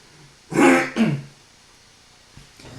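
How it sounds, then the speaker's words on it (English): A person clears their throat in two quick, close, loud rasps, then near silence during a lecture. "I'm going to clear my throat."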